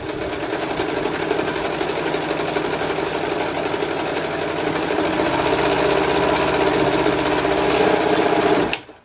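A serviced all-metal sewing machine stitches through fabric folded over several times, giving a loud, steady mechanical whir that runs unbroken for several seconds and then stops abruptly.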